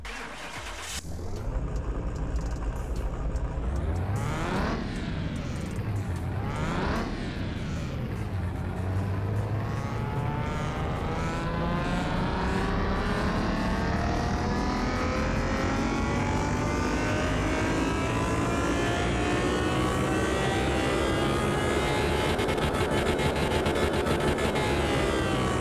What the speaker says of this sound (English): Let's go ahead and see what the dyno has to say about it.